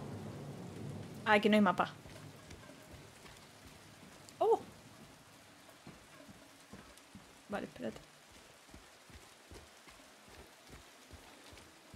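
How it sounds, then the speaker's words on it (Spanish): Rain and thunder ambience from the video game Silent Hill 2 Remake, a steady wash of rainfall with soft recurring low thuds, running under a man's occasional speech. "¿Cómo mola lo del efecto de la lluvia?"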